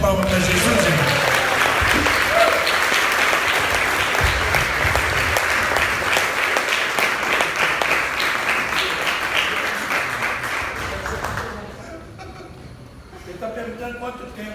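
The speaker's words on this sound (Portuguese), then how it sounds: "Vamos dar uma salva de palmas para Jesus, irmão?" A church congregation applauds at an evening worship conference, sustained clapping with some laughter, loud and steady for about eleven seconds before fading out into a quieter room.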